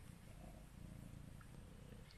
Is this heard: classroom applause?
no